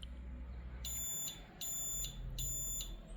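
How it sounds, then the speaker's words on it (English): High-pitched electronic beeps from a car alarm sound in a short regular series of tones over a low background rumble, chirping as sensors are disabled on arming. "siren beeps once"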